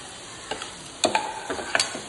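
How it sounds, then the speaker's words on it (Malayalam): Chopped onions and green chillies stirred in a pan for samosa filling, a few scraping spoon strokes and clinks against the pan over a soft sizzle. "ഇതെല്ലാം നല്ലോണം മിക്സ് ചെയ്യാം ഇതെല്ലാം കൂടിയിട്ട് ഒന്ന് നല്ലോണം ഒന്ന് വാടി വരട്ടെ"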